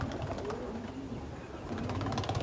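Pigeons coo softly nearby in repeated low, rolling calls over a constant background hum.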